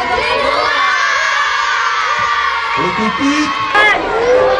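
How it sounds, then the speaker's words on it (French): At a charity running event for sick children in hospital, a crowd of children cheers and shouts loudly and continuously, high excited voices whooping together close by. "On applaudit Ghislain qui est l'enquêteur du sport à l'hôpital."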